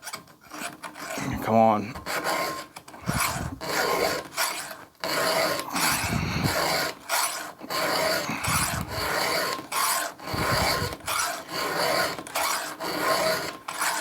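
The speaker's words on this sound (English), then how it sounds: "at the same time, I'm actually sharpening this side plate" A sharpening file rasps along the side plate of a chainsaw chain in quick repeated back-and-forth strokes, a gritty scraping rhythm close up, with a brief spoken remark early on.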